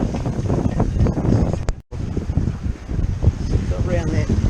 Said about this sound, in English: 10-15 knots of wind behind us